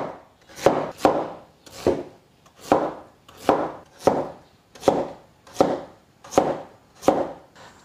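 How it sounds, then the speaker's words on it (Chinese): A knife chops peeled white radish into thick chunks on a cutting board, about a dozen crisp, loud thuds in a steady, even rhythm with short quiet gaps between strokes. "去皮洗净过后，把它切成块。"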